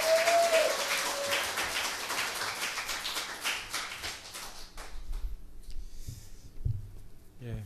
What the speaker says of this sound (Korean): 우리 주님의 이름으로 환영합니다라는 마음으로 우리 뜨거운 환호와 박수로 환영해 주시면 감사하겠습니다